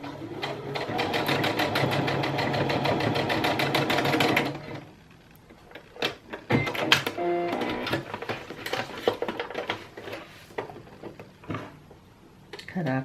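A sewing machine stitches rows back and forth on a bra, running in a fast close burst for several seconds, then breaking into short stop-start runs and clicks.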